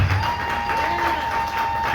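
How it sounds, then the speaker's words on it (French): Applause from guests at a civil wedding ceremony for the couple, a steady wash of clapping that runs through the whole moment alongside a sustained tone and faint murmuring. "je demande à l'assistance d'applaudir un peu pour ce couple ici."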